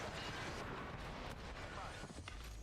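Grenade explosions in an Apex Legends esports match: dense rumbling booms and blasts layered over each other in a constant wash of battle noise, with a commentator talking underneath.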